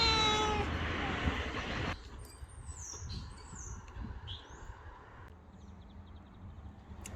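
A cat meows on a balcony in a Melbourne home, a clear close call at the start followed by quieter outdoor ambience with faint bird chirps.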